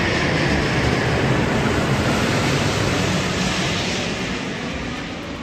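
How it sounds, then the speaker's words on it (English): A British Airways A350-1000 airliner flying in to land after a flight from Heathrow gives a steady, loud, broad roar of jet engine noise that slowly fades toward the end. "this British Airways A350-1000 coming in from London's Heathrow Airport after a 10-hour journey of"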